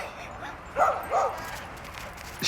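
A pet dog named Stella, out in a beekeeping yard, gives two short yips or barks in quick succession under steady outdoor background noise.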